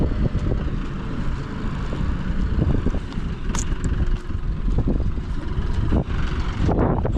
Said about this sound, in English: I'm sure you can hear the wind.